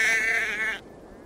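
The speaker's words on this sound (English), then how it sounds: "Feed the sheep and see what comes out." A sheep in the video game Assassin's Creed Valhalla lets out a single short, bright bleat up close that cuts off abruptly, leaving faint background.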